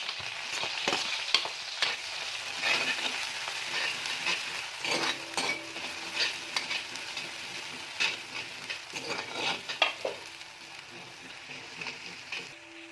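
Garlic, cumin and green chillies fry in a pan for a Khandeshi-style brinjal curry, a continuous close sizzle with scraping stirs and occasional clinks throughout, no voice.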